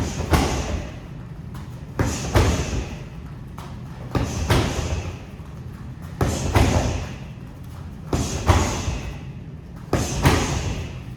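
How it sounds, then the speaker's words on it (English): Kicks and punches strike a training bag in a martial arts class, landing as dull, heavy thuds roughly every couple of seconds over a steady low background hum, with no speech. "when I send that kick and punch on the bag"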